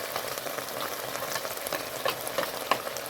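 Paneer is stir-fried in a pan for Schezwan noodles, giving a steady close sizzle with scattered crackles and a few sharper pops from the hot oil and no voices.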